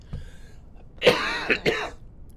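A woman gives a short cough followed by two rough throat-clearing coughs, close and fairly loud against a quiet background on a livestream call.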